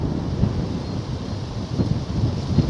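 A chill wind sweeps across open countryside near a church on a walk between Knockholt and Otford, a loud steady rumbling gust buffeting the microphone with no voices.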